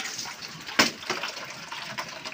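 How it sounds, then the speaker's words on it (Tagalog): Water running into containers in a backyard being used to raise pigs: a steady splashing gush of tap water, close to the microphone, with a brief louder splash near the start. "busy talaga sa pag sahod ng tubig"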